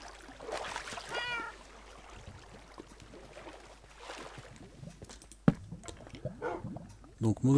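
A Minecraft cat meows several times near water, short mewing calls spread across the span alongside splashing and other game noises, with someone talking over much of it.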